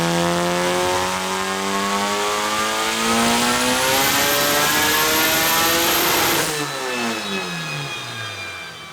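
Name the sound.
Honda H22 engine with Skunk2 cams revving in a dyno pull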